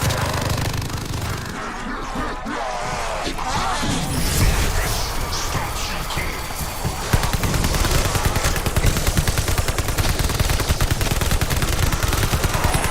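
Sustained, loud automatic gunfire in Call of Duty, a dense rapid stream of shots running throughout with heavier bursts toward the end, no talk over it.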